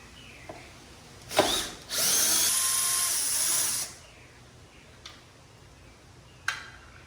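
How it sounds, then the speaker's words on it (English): A 10 millimeter socket on a power driver backing out headlight guard bolts on a Jeep Gladiator: a short whir, then a longer buzzing run of about two seconds, with a few sharp clicks before and after. "It is a 10 millimeter socket, so I'm just going to go ahead and remove those screws."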